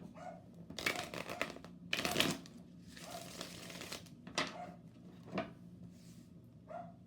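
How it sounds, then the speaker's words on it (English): Dogs barking in the background of a quiet room, a few faint distant barks, mixed with soft shuffling and handling of tarot cards near the microphone. "My dogs are in the background barking, as you can probably hear"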